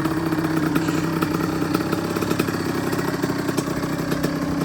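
A rebuilt 2004 Honda CR85 dirt bike engine idles close by, a steady rapid two-stroke putter with light clatter that holds an even level throughout.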